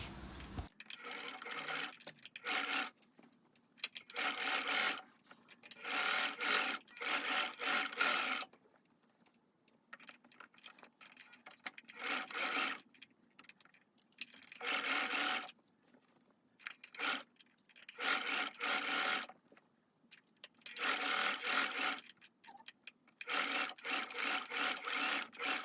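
A sewing machine stitches the back bodice of a dress to a raglan sleeve, whirring in repeated runs of a second or two with short quiet pauses between them.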